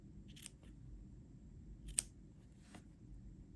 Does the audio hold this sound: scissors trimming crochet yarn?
yes